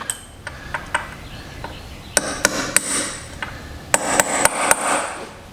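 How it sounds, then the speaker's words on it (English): A hammer strikes a metal punch on the front sprocket nut of a 2020 Yamaha R1 in a workshop, giving sharp, ringing metallic taps, first light and sparse, then clusters of harder blows, with no talk. "we're going to take a punch"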